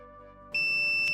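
A multimeter beeps during a continuity test on the connected pins of an alternator's stator midpoint: one steady, clear high-pitched tone starts abruptly and holds to the end, over a faint background hum.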